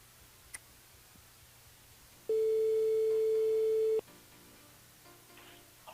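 A steady telephone line tone sounds alone for under two seconds during a French radio call-in show, a loud continuous beep that starts and stops abruptly over a quiet background.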